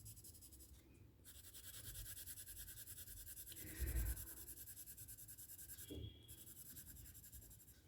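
Soft, steady scratching of pencil on paper as a seahorse drawing is coloured with very light strokes, faint and continuous with a couple of slightly louder rubs.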